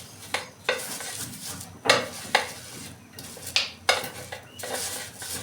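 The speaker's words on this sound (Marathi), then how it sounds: "बाजूने कुटून बारीक करते." Green chillies are pounded coarsely on a tawa to make thecha, giving sharp irregular knocks of metal and crushing thuds, about a dozen over several seconds, close and without talk.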